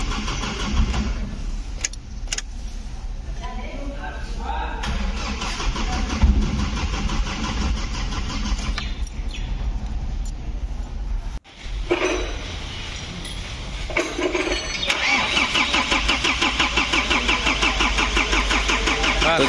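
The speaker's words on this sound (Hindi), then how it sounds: "तो जैसा कि आप देख पा रहे फ्रेंड्स कि हमारी गाड़ी स्टार्ट नहीं हो रही है" A Tata Xenon Yodha pickup that has not started since an accident cranks repeatedly, the starter motor whirring steadily in long loud bursts with clinks, a brief pause, then more rhythmic cranking, without the engine catching.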